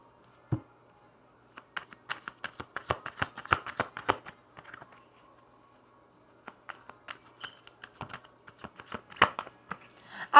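Tarot cards are handled and shuffled up close, making bursts of quick papery clicks and flicks. Two busy stretches are separated by a short quiet pause.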